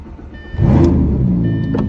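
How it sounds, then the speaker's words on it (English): Lamborghini engine rumbling loudly from inside the car while driving, a swelling low-pitched drone that rises after a quiet start and holds steady with a faint whine above it. "I get to drive a Lamborghini for the next 2 hours."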